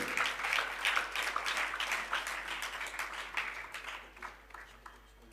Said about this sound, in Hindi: जोरदार तालियों के नाद से हम अभिनंदन व अभिवादन करें